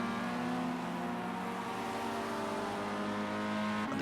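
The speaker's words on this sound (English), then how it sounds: "And the car's making their way around then for qualifying one of the round one finals here for the Xbox." Simulated race cars lap Knock Hill in an Xbox racing game during an esports qualifying session, a steady, loud engine drone with sustained revving tones throughout and no talking over it.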